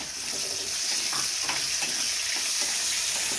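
Onions and garlic fry in a pan with curry leaves, a steady loud sizzle with faint stirring scrapes running throughout, no voices.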